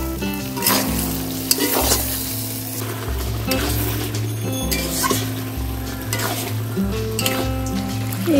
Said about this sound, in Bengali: এই ক্যাপসিকাম গুলো মা দিয়ে দিচ্ছে।